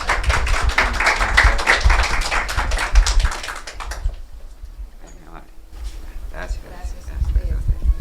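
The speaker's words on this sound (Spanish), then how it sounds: "Por favor, un fuerte aplauso." Applause from an audience for a speaker at a ceremony, a dense burst of clapping lasting about four seconds before it stops abruptly, followed by quieter sounds of the room.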